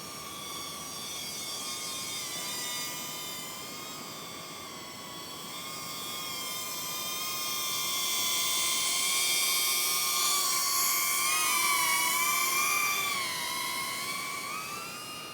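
HappyModel Mobula 8 HD O3 micro drone hovering on roughly 35% throttle, its tiny motors giving a steady, loud high-pitched whine that swells and wavers in pitch as it holds position, with no voices.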